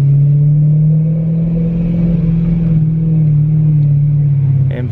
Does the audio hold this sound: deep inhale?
no